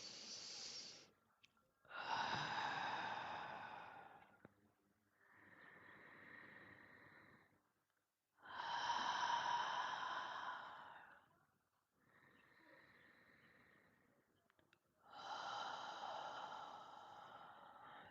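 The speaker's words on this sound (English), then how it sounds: "Let's take 3 deep breaths and close this circle." Slow, deep breaths taken during a guided meditation, drawn in and let out in long, loud swells with quiet pauses between them. The breathing is close and heard alone, without talk.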